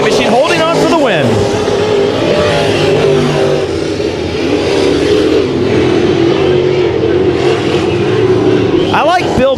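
IMCA modified race cars at Bakersfield Speedway battle on the final lap, engines roaring loudly with revving passes and a sweeping car going by near the start, under a commentator's voice.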